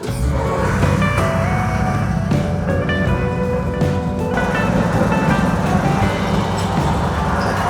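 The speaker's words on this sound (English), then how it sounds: "Oh, there's a truck and trailer." A truck towing a trailer rolls past on a mountain backroad, a loud, close engine and tyre rumble that holds steady for several seconds with no speech.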